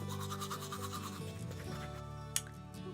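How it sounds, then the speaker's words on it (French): Steady, close toothbrush scrubbing against teeth, a continuous brushing rasp of rapid back-and-forth strokes lasting throughout, with one brief sharp knock near the end and no talk. "Donc voilà, je me brosse les dents."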